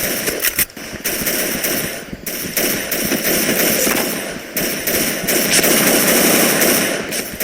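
Rapid automatic gunfire from a video game crackles almost continuously at close range, with dense bursts filling the whole stretch and only brief dips between volleys.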